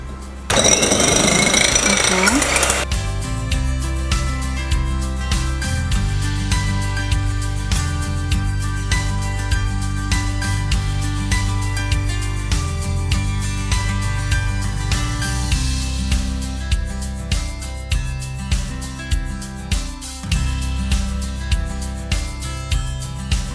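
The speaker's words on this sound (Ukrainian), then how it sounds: "давайте додаємо білки, сіль і на маленьких оборотах збиваємо" An electric mixer whips egg whites with salt at low speed for a meringue, a steady loud mechanical whir running continuously throughout, with a harsher burst at the start.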